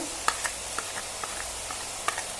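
Tempered eggplant (brinjal) being stirred as it fries in hot oil for a bitter vegetable dish: a steady soft sizzle broken by a few light, scattered scrapes of the spoon, close and fairly quiet.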